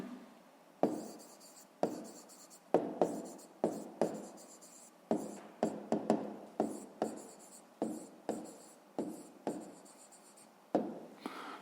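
Pen or pencil writing by hand on paper while solving a fifth-grade maths exercise, a run of short scratchy strokes with brief pauses, close and fairly quiet, with no talk.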